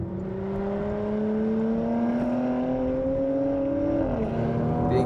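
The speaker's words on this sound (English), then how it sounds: "The exhaust gets fruitier too." Porsche Macan GTS engine and exhaust in sport mode, a steady close drone that climbs slowly in pitch under acceleration, then dips briefly near the end as a gear changes before pulling again.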